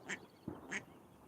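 Ducks quacking in a duck area with mother ducks and ducklings, three short nasal quacks spaced across about a second, faint and fairly close, with no talk.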